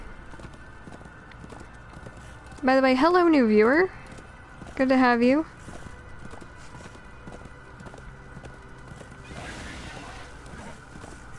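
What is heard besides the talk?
horse hooves in video game Darksiders 2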